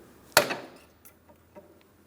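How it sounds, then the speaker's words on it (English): A hammer strikes a steering boot clamp on a 2004-2008 Pontiac Grand Prix during inner tie rod work, one sharp metallic tap followed by a couple of faint lighter knocks, close and otherwise quiet. "Now on the far end, I'm going to tap on it with a hammer."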